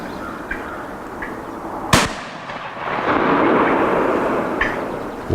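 One gunshot cracks sharply and close across plowed ground during a Minnesota youth spring turkey hunt. A rolling echo follows, then quieter outdoor ambience with faint birds calling.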